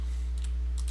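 Two quick bursts of computer keyboard typing, faint and close, over a steady low electrical hum in a quiet room.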